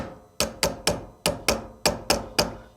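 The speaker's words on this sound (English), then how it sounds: "Now I can use my hammer with something that's non-marring. In this case, the hammer tip on mine is brass, so I can tap" A brass-tipped non-marring hammer taps a pin into a CZ 75 B pistol slide: eight sharp, close metallic knocks in a steady, slightly uneven rhythm, with no talking.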